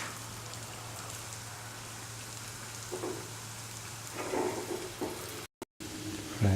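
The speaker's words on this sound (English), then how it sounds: "Fry by turning from side to side." Sweet banana balls fry in oil as they are turned from side to side, a continuous rain-like crackle with occasional soft knocks of a spoon, briefly cutting out near the end.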